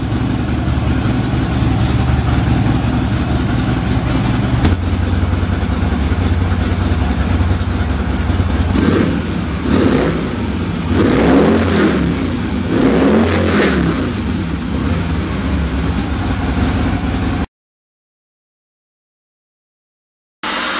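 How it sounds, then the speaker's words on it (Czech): A Harley-Davidson engine with its old exhaust idles with a deep, loud rumble, then revs sharply several times in quick bursts before cutting off. "Tohle je zvuk starých výfuků."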